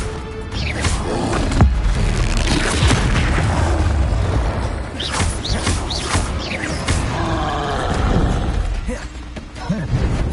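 Confringo fire spells explode in Hogwarts Legacy, one booming blast after another with crackling bursts, all under a voice shouting spell names.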